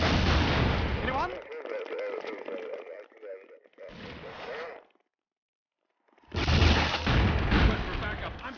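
Bursts of gunfire and booming blasts in the Family Guy: Back to the Multiverse video game, loud and dense, with a cutoff gap of silence between volleys and a voice speaking over part of it.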